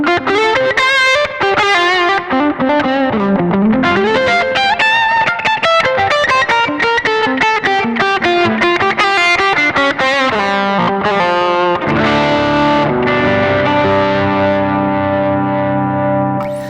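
Electric guitar lead through a Zoom G5 multi-effect processor's tube booster, saturated and warm, fast notes running continuously, then a held chord ringing out near the end, loud and close with no voices.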